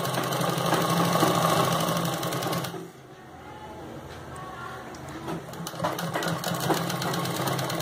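A sewing machine stitches a half-inch hem in fast, rattling bursts, loud at first, then pausing briefly before resuming more softly with irregular runs of stitching.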